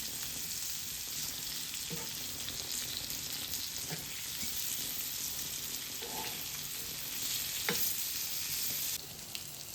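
A pomfret fish frying in oil over a slow flame gives a steady, even sizzle, with a few light clicks and scrapes from handling in the pan and no voices.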